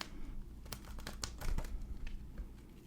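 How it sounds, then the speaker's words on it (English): Tarot cards shuffled on top of a deck during a tarot reading, a run of soft papery riffles and crisp card flicks, close and fairly quiet, with no talking. "So I'm just going to shuffle right on top here."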